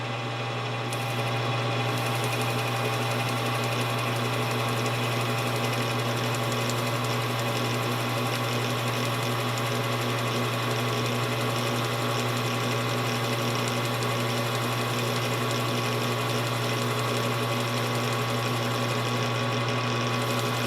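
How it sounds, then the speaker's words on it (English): A lathe spindle running while a piston ring is parted off, a constant loud mechanical whir and hum with a steady tone throughout, close and uninterrupted, no voices. "turn the spindle on, and then slowly part it off"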